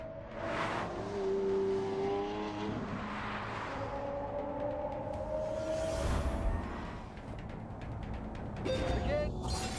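A hybrid supercar drives and accelerates, its engine note climbing and falling through several revs, with a whoosh as it passes and a final sharp surge. Someone talks over it throughout.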